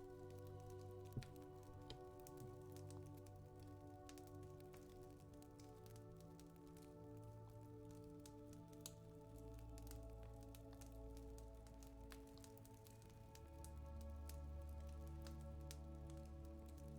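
A rain stick played close for ASMR gives a soft, continuous patter of trickling beads like light rain, faint and steady over a low hum, with no voices.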